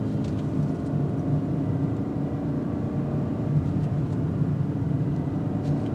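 2025 BMW X5 M60i cornering through a roundabout, its engine a low, steady rumble heard from inside the cabin, with a constant hum and no sharp changes in level.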